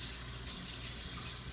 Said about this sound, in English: we'll wash off my cutting board real quick